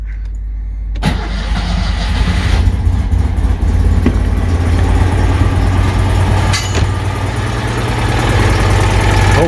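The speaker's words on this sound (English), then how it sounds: "You're going to be starting the engine." A car that has sat unused for a couple of days, started with a key and a bit of choke in neutral, cranks briefly, then catches and settles into a loud, steady idle up close.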